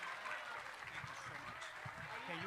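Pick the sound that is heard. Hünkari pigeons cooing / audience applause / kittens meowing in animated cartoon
audience applause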